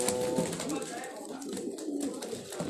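Pigeons coo softly on a Karachi rooftop, faint low calls mixed under someone speaking nearby.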